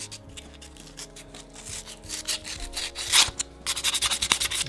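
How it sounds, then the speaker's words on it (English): Sandpaper rubs back and forth over a hand-carved wooden nativity figure of a baby in a wrap, a close, scratchy stroking that quickens into rapid rhythmic strokes toward the end. "Maybe a little sanding on the wrap as well."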